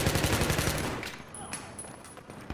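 Full-auto assault rifle fire in Battlefield 3, a dense rapid burst at the start that fades into softer scattered shots and game noise over a couple of seconds.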